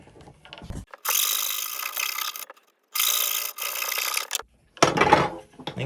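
A coping saw cuts through wood in a few bursts of raspy back-and-forth strokes, close and fairly loud, separated by short silent pauses.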